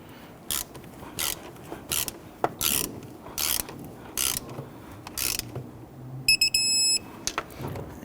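Hand ratchet loosening a nut on the intake manifold of a 2011-2015 Kia Sorento, short bursts of clicking repeated at an uneven pace with pauses between, plus a brief high metallic ringing near the end, no talking.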